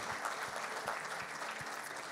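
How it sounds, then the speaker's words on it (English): Church congregation claps together in praise, a fairly quiet but steady patter of many hands lasting about two seconds, with no speech on top. "let's give Jesus one more big hand clap of praise."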